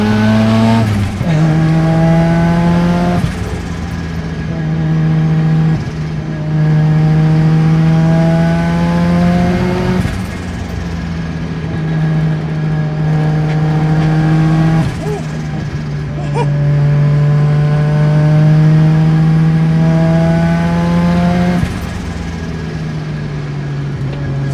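Mazda RX7 drifting on a wet mountain touge road in the rain, its engine loudly revving and bouncing off the limiter in repeated surges with tire noise; a person talks briefly over the engine.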